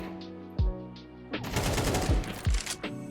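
Rapid bursts of gunfire from a player pre-firing at an angle in a competitive shooter game, with sharp individual shots near the start followed by a dense volley and a few trailing shots, loud and close.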